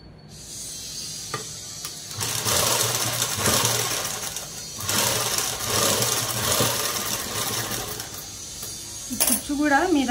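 A sewing machine runs in steady sustained bursts while stitching a dress, the motor whirring loud and close with brief pauses between runs and a few small clicks near the end.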